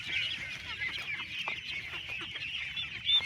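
Brooded, vaccinated ducklings, fourteen to seventeen days old, on a duck farm keep up a continuous faint chorus of high peeping from many birds a little way off. No one speaks.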